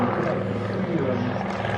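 A seaplane powers across the water on its takeoff run, its engine roar loud, close and steady throughout, with no pause or break.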